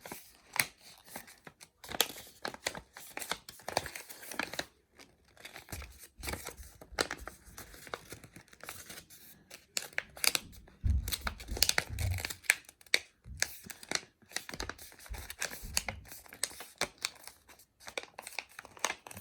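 Paper being folded into a crane: soft crinkles, creases and rustles come in irregular bursts, close and quiet, with brief pauses between folds.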